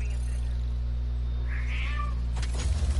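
A house cat meows once, a clear, fairly close mid-length call over a steady electronic hum, followed by a brief burst of rustling noise.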